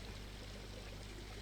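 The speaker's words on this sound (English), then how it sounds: "It's even got the water being pumped out there." Water pumped out in a Planet Coaster park build pours and streams steadily, a soft continuous gush under low ambient hum, no voices.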